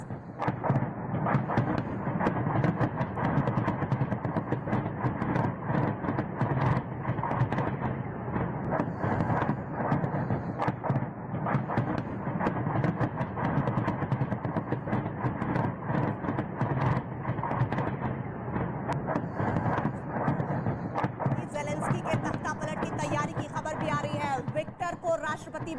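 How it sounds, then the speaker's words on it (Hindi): Heavy bombardment and artillery fire in Kharkiv during the Russia-Ukraine war produce loud, dense, rapid pounding bursts that continue without pause for the whole stretch, mixed with a crackling rumble. "ये खार्किव की भारी बमबारी की तस्वीरें हैं। सुनिए जरा आवाज।"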